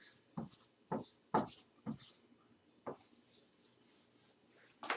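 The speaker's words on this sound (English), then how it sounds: "So let's draw our picture again." Someone draws a diagram by hand for a lecture on the Langmuir adsorption model. Soft, scratchy pen strokes come in short bursts with pauses between them, close and quiet.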